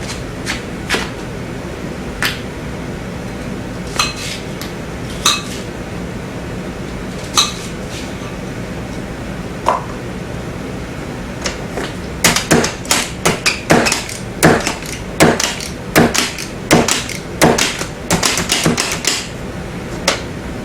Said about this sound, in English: Chop up an onion.